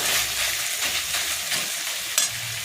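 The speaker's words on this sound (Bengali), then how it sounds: "মশলাটা থেকে আমার তেল বেরিয়ে গেছে, মানে মশলাগুলো আমার ভালো করে কষানো হয়ে গেছে।" Spice masala for chicken patties fries in oil, with a continuous close sizzle and occasional stirring scrapes in a pan, heard alone without talk.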